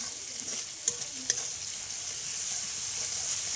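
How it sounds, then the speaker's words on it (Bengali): Spice paste is sautéed in a pan with a steady, loud hiss of frying, broken by a few soft taps of the stirring spoon. "মশলাটা কিন্তু খুব সুন্দর করে কষানো হয়ে গেল।"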